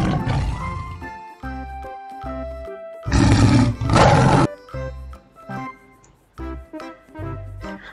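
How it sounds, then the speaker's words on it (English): A tiger gives a loud, rasping roar in the middle of the recording, surrounded by softer tonal sounds before and after the roar. "Tiger."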